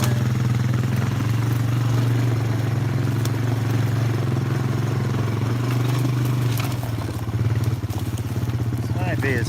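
A four-wheeler ATV engine runs steadily and close by for the whole stretch, a loud continuous low rumble with some clatter, dipping briefly near the end before carrying on; no talking over it.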